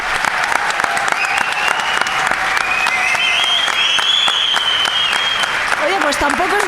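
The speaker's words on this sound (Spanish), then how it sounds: "les voy a pedir un aplauso" Dense, loud audience applause fills the whole stretch as a continuous roar of many hands, with cheering voices and whistles rising over it.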